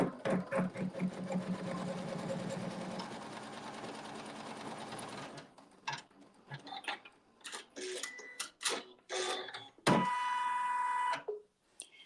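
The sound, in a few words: embroidery machine sewing a tack down stitch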